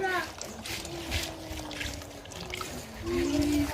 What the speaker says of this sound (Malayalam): നീര് ഫുള്ളായിട്ട് ഒഴിക്കാം അരിൻ്റെ മേലെ